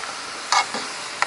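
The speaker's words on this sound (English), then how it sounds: "heat this up and cook it till it's no longer pink and the onions are soft" Ground beef and onions sizzle faintly in a pan, a steady low hiss with a couple of brief bright stirring scrapes, no voices.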